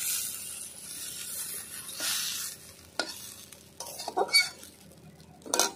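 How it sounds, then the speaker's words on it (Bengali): Shrimp frying lightly in a little oil, with a soft sizzle under repeated scraping and stirring strokes of a utensil against the pan, irregular bursts growing busier toward the end, close and alone. "অল্প তেলে ভেজে নিচ্ছি। চিংড়ি মাছ হালকা হালকা ভেজে নিয়েছি"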